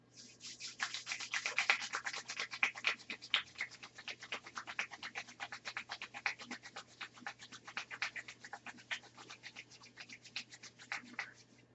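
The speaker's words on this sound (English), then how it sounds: "rubbing the palms of your hands together at the same time that you rub the soles of your feet together" Hands rub palm to palm while the soles of the feet rub together, giving a close, continuous swishing friction in fast repeated strokes, fairly quiet, with no talk.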